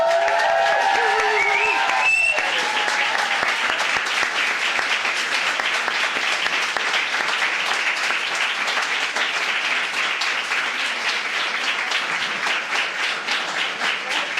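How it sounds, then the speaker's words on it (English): An audience at a retail talk event breaks into sustained applause and cheering. Dense clapping carries on for about fourteen seconds after a brief tonal sound at the start. "So can we have a grand round of applause for everyone here?"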